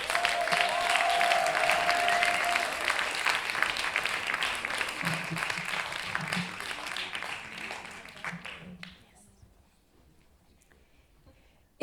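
A slam poetry tournament crowd applauds to welcome the next performer, a broad sustained wash of clapping that gradually thins and fades out toward the end, leaving near quiet.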